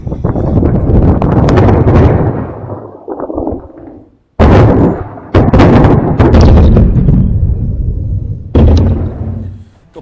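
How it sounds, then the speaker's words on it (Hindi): Explosions from a hypersonic missile attack on a site in Ukraine come as loud, rumbling blasts in news footage. The roaring bursts are buffeted by heavy wind, with an abrupt gap midway and a fresh blast near the end. "ये आप देख रहे हैं उस मिसाइल से अटैक किया है"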